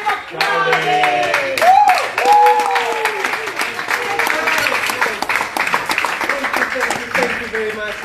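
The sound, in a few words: audience applause for the speaker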